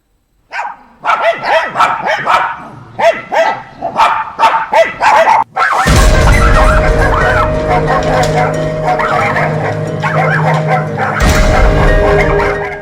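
Stray dogs bark rapidly and loudly during an attack on a woman, recorded by CCTV, then a dense roar of noise and overlapping barks takes over for the rest.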